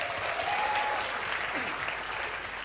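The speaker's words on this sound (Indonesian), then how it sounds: "Tepuk tangan dulu." Studio audience applause at a televised debate on closing the Dolly district in Surabaya, a dense, continuous wash of clapping filling the whole stretch at even loudness.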